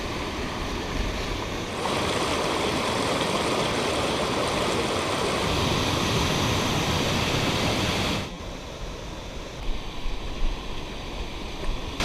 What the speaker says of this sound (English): Franconia Brook.